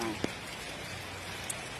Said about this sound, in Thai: ไป นอนกลางวันดูสายฝนกัน